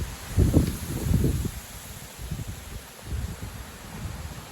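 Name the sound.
wind gusts blowing through a tree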